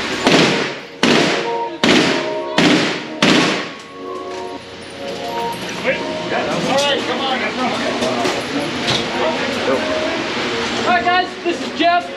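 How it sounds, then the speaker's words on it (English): At a Battlefield Vegas shooting range, rare guns fire five sharp, loud, evenly spaced shots in quick succession, and then people talk over a busy background. "He's shooting it."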